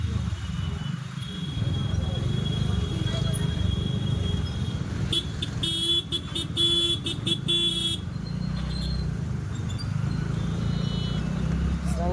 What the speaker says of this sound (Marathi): त्याच्या चक्करमध्ये खूप ट्रॅफिक होत आहे